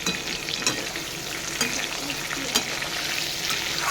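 Pointed gourd fries loudly in a pan, a dense sizzle broken by a few sharp scraping stirs at intervals, close up and without speech.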